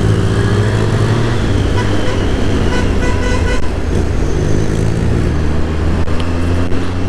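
A car horn toots amid dense Paris street traffic heard from a motorcycle, the honk rising briefly above a loud, constant roar of engines and road noise.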